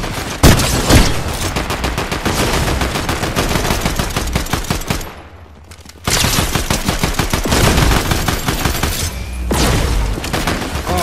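Rapid, loud, sustained automatic gunfire in the Fortnite video game, dense bursts filling most of the stretch with a brief lull in the middle before firing resumes.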